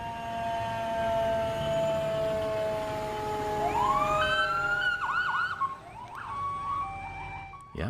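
Police, paramedic and fire vehicle sirens wail together in a birthday parade for a four-year-old boy in Peel region, long rising tones overlapping with warbling yelps, loud and sustained with no talking.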